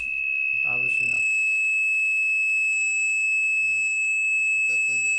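A telephone rings through a live soccer talk radio show, a steady piercing electronic tone running the whole time while people talk over it in short bursts.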